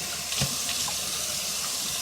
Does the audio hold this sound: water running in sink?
yes